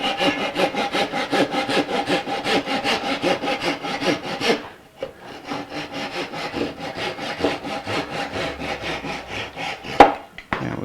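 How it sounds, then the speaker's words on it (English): A hand saw cuts excess wood off the body of an Eric Clapton 1964 ES-335 guitar being built in a workshop, with fast rhythmic rasping strokes, a brief pause midway, then steady sawing again, close and loud. "It's easier to just saw it when I can."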